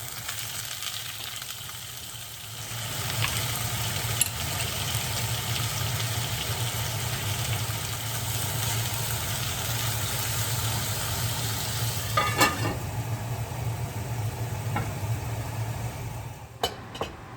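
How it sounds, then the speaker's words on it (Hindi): Potatoes for aloo fry, cooked without turmeric, drop into hot oil and set off a loud, steady close sizzle that holds for most of the stretch, with a few faint utensil clicks near the end and no talk. "तो मैं आलू फ्राई के लिए आलू डाल दिया।"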